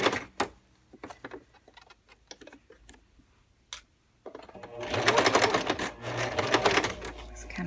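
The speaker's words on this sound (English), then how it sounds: "I'm only doing a couple stitches at a time" A sewing machine stitches a skirt waistband, first in short sparse bursts of a few stitches with pauses and handling clicks, then in a louder sustained run of rapid stitching.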